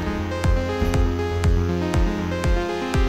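A sustained synthesizer melody plays over a steady thumping kick drum that hits about twice per second, loud and close.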